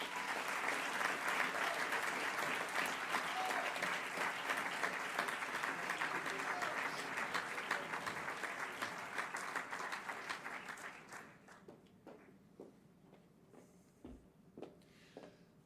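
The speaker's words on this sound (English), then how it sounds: "overwhelming applause for Isabel Hernandez Hernandez." Loud, sustained audience applause at a school ceremony, dense clapping that holds for about ten seconds before thinning out to scattered claps.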